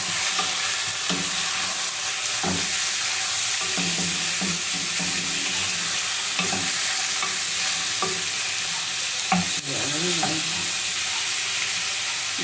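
Pork sinigang is stirred in a cooking pot, with repeated scraping and clinking strokes against the pot over a steady sizzling bubble, the stirs spaced irregularly across the stretch.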